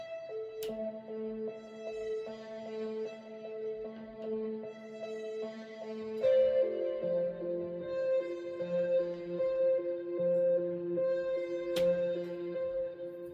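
Layered OB-X analog synth chords with steady repeating arpeggiated notes, sustained and bright, shifting to a new chord partway through and playing alone without voices.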